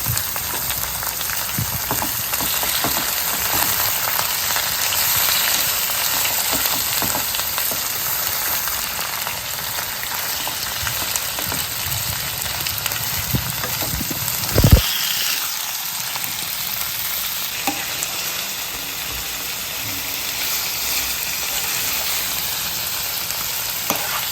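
Soaked chicken pieces with garlic paste frying hard on high flame, a loud, steady sizzle filling the whole stretch, with occasional scrapes and clacks of stirring and no voices.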